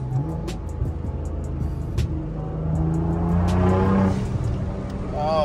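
A 700 hp turbocharged Infiniti G37 revs hard and accelerates at night, its pitch climbing steadily, loud and close over a steady rumble, with a faint voice now and then.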